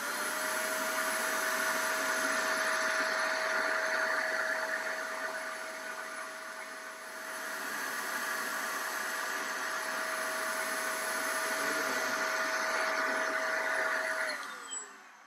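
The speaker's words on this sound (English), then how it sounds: "and I blow air over the top of it," Air blower blowing a steady airstream over a light bulb: a loud, continuous whooshing hum with a steady tone that dips briefly midway, then cuts off at the end.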